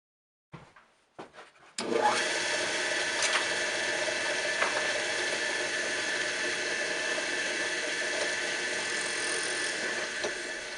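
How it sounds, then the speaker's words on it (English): A power drill bores holes, spaced about an inch apart, into shaped wooden slats being made into armor: a few short bursts, then a steady, close whirring run with a high mechanical whine, heard alone. "I'm drilling the holes every inch."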